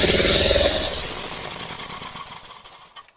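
Toyota Avanza engine cranking and running roughly during an ignition test with spark plugs removed, a loud rattling chug that fades and sputters into uneven pulses before stopping.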